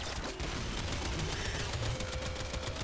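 Rapid-fire gun shooting in the Warframe video game, a dense continuous stream of fast shots with constant loud game noise throughout.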